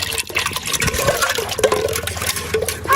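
Cold water being poured into sweet lassi, already mixed with sugar, in a village home: continuous splashing and gurgling, close and fairly loud, with no talk.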